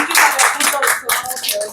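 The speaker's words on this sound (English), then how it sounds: "I know you wouldn't like us clapping" Audience at a retreat gathering clapping, a short burst of brisk, close hand claps from a small group, lively and uneven with some voices mixed in.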